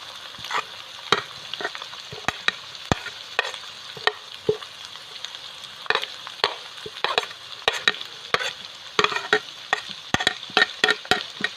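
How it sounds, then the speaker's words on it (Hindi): Onion and julienned carrot for chicken chowmein are stir-fried in a hot pan, with a steady sizzle broken by frequent sharp clacks and scrapes of the spatula tossing them close by. No talking. "अब हम अच्छे से इसको मिक्स करेंगे जब तक हल्का सा ये इसका क्रंच ख़त्म नहीं होता तब तक"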